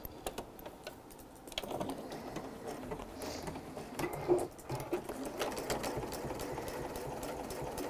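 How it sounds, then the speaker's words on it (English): A sewing machine top stitches around the edge of a project in a fast, steady mechanical chatter, close up and fairly quiet, with small knocks and shifts. "we're just going to top stitch all the way around"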